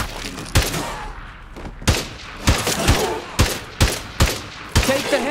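Rapid gunfire from the video game State of Decay 2, a string of about nine punchy shots at irregular intervals over a steady background, with no speech.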